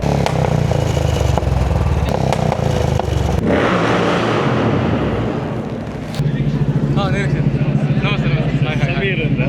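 A motorcycle exhaust at a Sharada Vidyalaya auto expo in Mangalore revs loudly, its rough engine note breaking into popping backfires, with people talking nearby.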